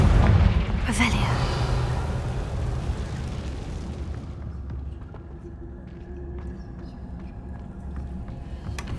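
A Confringo blasting spell goes off in Hogwarts Legacy, a loud burst opening the clip and fading into a lingering rumble with a low steady background drone.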